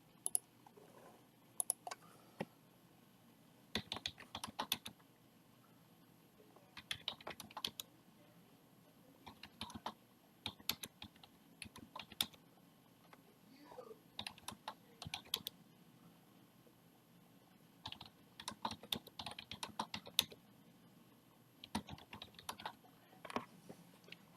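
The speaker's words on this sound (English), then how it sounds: "Start typing up the randomizer." Bursts of quick clicky keystrokes on a computer keyboard during a live trading-card case break stream, faint and close, coming in irregular clusters separated by quiet pauses.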